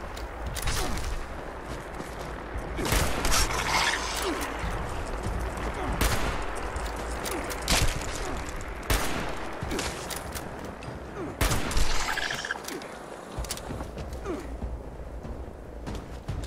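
A slow-firing gun in Fallout 76 Wastelanders: loud single shots spaced a couple of seconds apart, each a sharp crack over a rumbling game soundscape, with someone talking intermittently.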